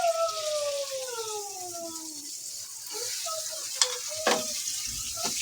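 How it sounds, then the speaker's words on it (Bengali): Onion frying in oil in a home kitchen pot, cooked just after the potatoes for aloo dum. A steady soft sizzle runs throughout, with a few brief clinks and stirring sounds near the end and no speech. "তেল দিয়ে দিছি, দিয়ে এখন পেঁয়াজটা ভেজে নিব।"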